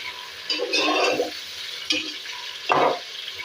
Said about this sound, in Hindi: अब इस स्टेज में इसमें हरी मिर्चें और ये लहसुन जो था ना ये कट किया हुआ, ये मैं इसमें डाल दूंगी और इनको भी फ्राई कर दूंगी।